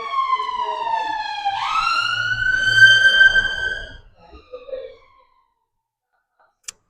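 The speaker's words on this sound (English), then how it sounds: "I hear a siren." A wailing emergency siren passes outside a cafe, loud and rising in pitch with a steady tone before it fades away after about four seconds, leaving near silence.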